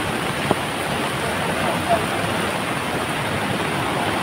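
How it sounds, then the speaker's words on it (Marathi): Floodwater from a swollen village river in the Konkan region rushes beneath a bridge, making a dense, continuous roar of churning water that stays close and steady, with faint voices in the background. "गाईस पाणी बघा पूर्ण ब्रिजला टच होऊ शकतं इतकं पाणी आलंय."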